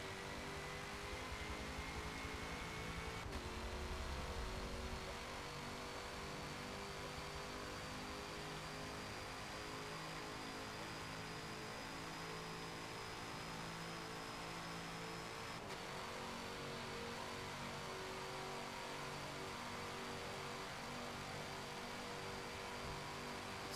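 Corvette C7.R race car engine in the Forza 7 racing game, a faint steady drone that swells briefly before settling into a sustained tone, with no one talking.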